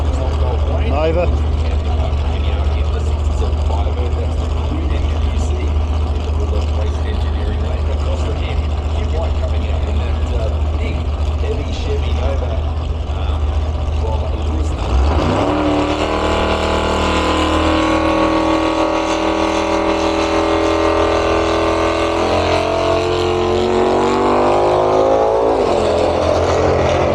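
Cars at a nostalgia drag racing event, including a Chevrolet Nova and a Camaro, with a steady engine drone at first, then a loud launch and roaring acceleration that swells and climbs, while a commentator talks over it.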